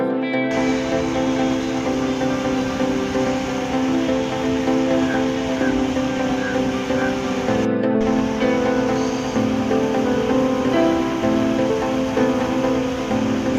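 River water released from the Parvati dam pours about 1.5 feet deep across a flooded road causeway. It makes a loud, steady, unbroken rush that fills the whole stretch.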